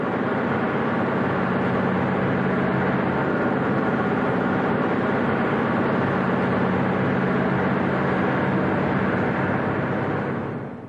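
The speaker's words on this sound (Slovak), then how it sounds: "Celý povrch sa chveje a počuť hlasný húkot." A high-speed train's nose resonates near 17 Hz with a loud, steady, broadband rumbling hum that stays constant for the whole stretch and fades slightly at the end.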